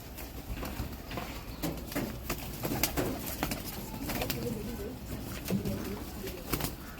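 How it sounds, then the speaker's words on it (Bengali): A flock of pigeons on a tin rooftop coo softly in the background while being fed, with scattered clicks, taps and wing flutters and a person speaking quietly nearby. "দেখুন ওই ফাহাদের কতগুলো কবুতর আছে, ওই কবুতরগুলো দেখেন যে ফাহাদ এখন খাবার দিচ্ছে"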